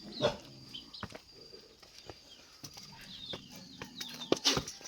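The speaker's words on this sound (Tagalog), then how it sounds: "Yung aso." A dog barks in short, scattered bursts amid clucking farmyard fowl, with a few sharp noises in between.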